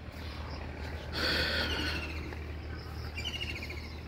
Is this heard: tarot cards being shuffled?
no